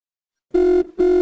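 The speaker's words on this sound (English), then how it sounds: "It's ringing." Two loud bursts of a landline-style telephone ring, an electronic warbling tone repeated with a short gap, starting after half a second of silence, with no talking.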